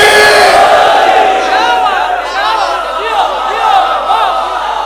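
A large crowd at a Shia religious gathering in Lahore chants the Haidari slogan with raised hands, a loud, sustained roar of many voices with overlapping shouts and cries.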